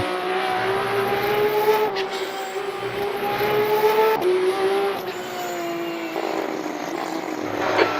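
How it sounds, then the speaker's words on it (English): Race car engine heard from outside in the Le Mans Ultimate racing game at COTA, a loud steady drone that rises and falls in pitch through gear changes as the car passes, with no voices. "And I forgot the car actually sounds pretty good from the outside too."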